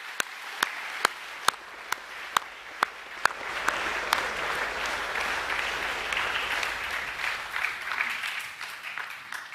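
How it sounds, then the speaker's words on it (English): Students at a school assembly applaud; a few sharp, evenly spaced claps at the start swell into steady, dense applause from the whole room that holds at a moderate level throughout. "Can I get you to put your hands together and give yourselves a round of applause too?"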